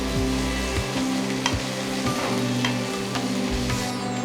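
Onion and garlic paste fries in a pan for a Bengali fish curry in coconut milk, giving a steady loud sizzle with the periodic scrape of a spatula stirring the thick paste and no talking.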